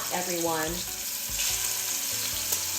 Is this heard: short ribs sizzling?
yes